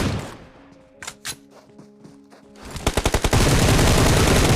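Gunfire in the mobile shooter BGMI: after quieter game sounds with a few isolated shots, a loud close burst of rapid automatic fire rips through the final seconds.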